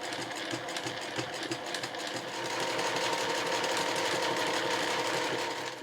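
A sewing machine runs continuously, stitching a fabric loop for a small cloth tissue case, with a fast mechanical needle rhythm that hums steadily and close, growing slightly louder midway, and no voices.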